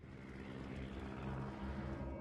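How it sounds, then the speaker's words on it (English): Aircraft engines drone steadily in a video game as planes take off, a faint, continuous propeller rumble with no voices. "I love how I'm watching planes take off from, like, nothing right now."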